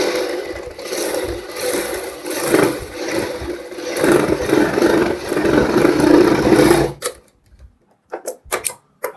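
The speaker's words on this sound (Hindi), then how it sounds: "जहाँ पे हमारी बाहर वाली सिलाई लगी है एक सिलाई वहाँ पे लगाएंगे" A sewing machine stitches the outer seam of a kurti neck with a continuous whirring, buzzing run that stops abruptly, followed by a few short, sharp bursts of stitching.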